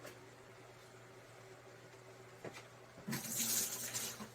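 Water is poured into a gold pan while hand-panning black sands from clay on a Wisconsin gold-prospecting trip; a short, loud splash and rush arrives near the end after quiet background.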